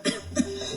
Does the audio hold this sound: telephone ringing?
no